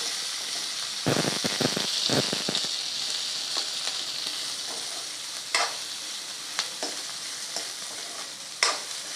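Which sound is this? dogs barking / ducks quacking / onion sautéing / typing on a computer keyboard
onion sautéing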